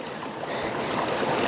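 Arkansas River water flowing past a gold-panning spot on an autumn afternoon, a steady close broadband rush and trickle that holds an even level throughout, with no voices.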